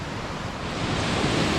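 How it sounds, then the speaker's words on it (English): Rushing water from the Black Waterfall at Rhaeadr roars as a dense, steady wash of noise, loud and unbroken, with no voices. "the first part of the Black Waterfall, Rhaeadr in the background there"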